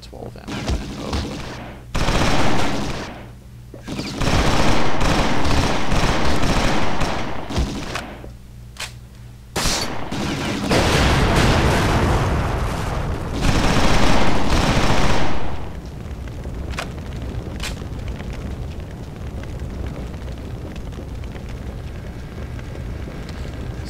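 Grenade blasts and bursts of gunfire in the video game XIII, loud and near, with repeated heavy thumps and rapid shots over about fifteen seconds, then a quieter rumbling tail.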